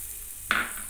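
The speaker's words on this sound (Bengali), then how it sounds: "এইবার সামান্য পরিমাণে জল দিয়ে দিতে হবে। জল দিয়ে দিলাম পরিমাণ মতন।" Water poured into a pan of poppy seed and green chilli paste already frying for a spicy okra dish sets off a sudden, loud hiss and sizzle partway through, over a steady low frying background.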